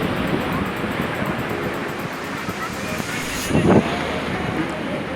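Sea waves wash in on a beach in Chennai, a continuous rumbling surf with wind buffeting the microphone and a brief louder surge near the end.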